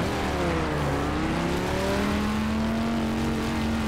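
A Porsche 991 GTE race car in Assetto Corsa revs hard, its engine note climbing and sliding in pitch as it accelerates, loud and close with no talk over it.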